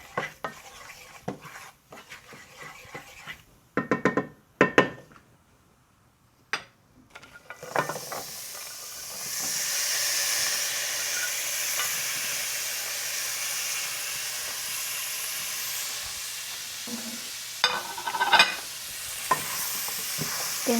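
Green beans frying in a pan and being stirred, with a few scattered utensil knocks and scrapes at first, then a steady soft sizzle with occasional stirring clatter, close and fairly quiet, no talking.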